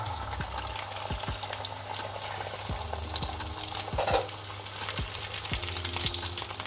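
An egg sizzles in two tablespoons of hot oil on a griddle for an omelette, a steady close crackle broken by soft scraping taps, with no talking.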